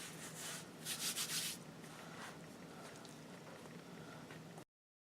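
Hands work and shape sticky white soda bread dough with soft, close rubbing and squishing sounds, a brief denser burst of kneading early on, then steady quiet handling.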